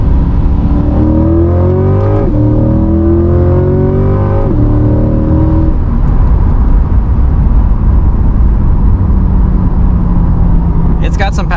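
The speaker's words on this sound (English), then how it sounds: "downshift a little bit, give it a little pull, see what it's got in it" A 2020 Corvette C8 Z51 pulls hard in second gear, its engine note climbing loud and close through a couple of rising sweeps before settling into steady road and engine drone.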